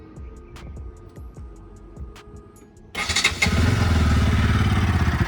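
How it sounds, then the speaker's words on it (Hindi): A motorcycle engine cranks over a quiet ticking idle background, then catches and roars into a steady, loud rumble for the rest of the clip, at home before chain cleaning. "बाइक को हम सबसे पहले स्टार्ट कर लेंगे।"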